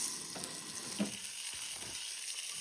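Food sizzles in a pan just after being flipped, a steady, fairly faint hiss broken by a few soft scrapes and taps of a utensil, heard up close with no talking.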